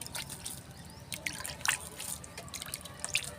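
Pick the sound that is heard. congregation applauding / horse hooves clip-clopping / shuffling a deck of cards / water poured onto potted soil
water poured onto potted soil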